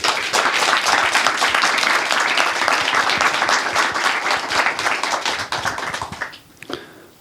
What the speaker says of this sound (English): Everybody give a round of applause for Mr.